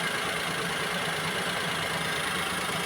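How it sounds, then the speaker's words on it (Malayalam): A Maruti Wagon R K-series petrol engine idles with a misfire that makes it jerk, giving a close, steady, continuous rumble with no voices. "എഞ്ചിൻ നല്ല രീതിയിൽ കിടന്ന് ജെർക്കാവുന്ന നമുക്ക് കാണാനായിട്ട് സാധിക്കും"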